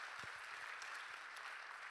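An audience at a Tzu Chi USA English retreat gives a round of applause, a steady even wash of many hands clapping at a moderate distance, quiet and unbroken for the whole moment.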